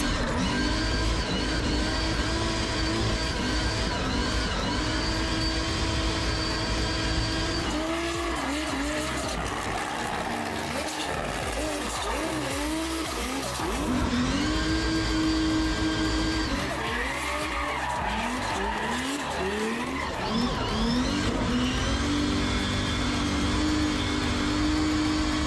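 Drift car lapping a real track in Ribeirão Preto, engine revving hard and rising and falling through sustained loud slides, with repeated tire squeal and skidding over about 25 seconds and no talking.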